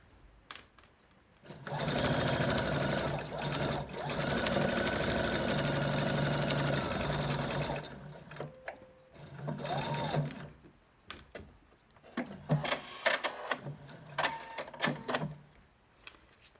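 A sewing machine runs steadily through quilt block pieces for about six seconds, loud and close, then gives shorter stop-start bursts, followed by clicks and handling noises.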